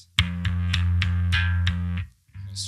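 A bass guitar plays a breakdown with a distorted, effects-laden tone: a steady run of evenly paced repeated low notes, then a short pause and one more brief note, played alone without talking.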